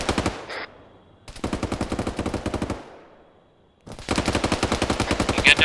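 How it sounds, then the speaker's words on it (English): Video game machine-gun fire rattles in three sustained bursts of rapid, evenly spaced shots, each cut by a short pause, loud and close with no talking. "Oh, it's all gunfire."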